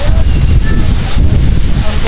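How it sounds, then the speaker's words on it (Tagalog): Strong wind at Amana Water Park in Pandi, Bulacan, buffets the microphone in a loud, continuous roar, low and gusty, filling the whole moment. "ang lakas ng hangin dito. Napakalakas ng hangin."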